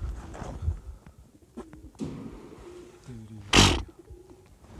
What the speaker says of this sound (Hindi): देखना कबूतर वगैरह